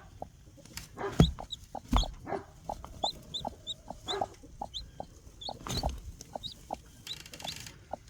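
A mother hen clucks softly and repeatedly near a newly hatched chick, with thin high peeps scattered throughout and occasional louder bumps and handling noises close by.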